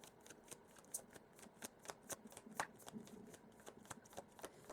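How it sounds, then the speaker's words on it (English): Tarot cards are shuffled by hand, producing quiet, repeated papery riffles and soft slaps in an irregular rhythm, close by and faint, with no talking. "Back cards hindering my shuffle."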